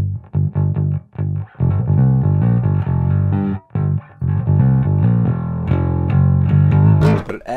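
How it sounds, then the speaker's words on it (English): Bass guitar played through distortion, a loud growling line of separate picked notes with short gaps, thick with added harmonics and heard alone. "That distortion in the background brings in a lot of harmonic content."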